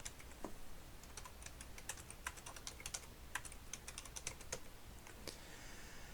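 Quiet, steady computer keyboard typing while text is entered into ArcGIS Pro, with irregular light key clicks and a few sharper taps running throughout, no voices.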